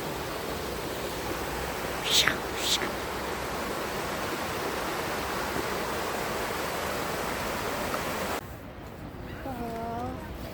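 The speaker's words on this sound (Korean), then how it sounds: "물소리 들리시나요?" Cheonjiyeon Waterfall on Jeju Island roars as a loud, steady wash of rushing water, with a couple of brief sharp sounds early on, before the sound cuts to a quieter scene near the end.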